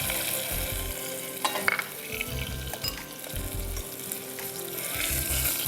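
A chicken breast fillet roasts in a hot pan with garlic powder, making a loud, continuous sizzle close by. Scraping and stirring sounds recur throughout, with no voices.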